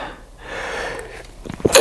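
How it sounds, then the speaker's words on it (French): A single sneeze bursts out at the end, preceded by a short breathy intake and quiet buildup. "Et là, je vais éternuer."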